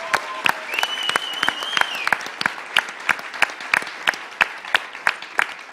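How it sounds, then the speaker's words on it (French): Audience applause at a 2018 Cégep en spectacle student talent show, dense clapping through the whole stretch with sharp rhythmic accents building into steady beats, as if the crowd falls into clapping together, with a brief tone sounding early on. "je pense que ça mérite un autre main d'applaudissement"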